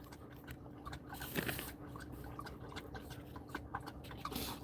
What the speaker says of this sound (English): I know you guys probably hear my doggy Onyx over there just slurping away.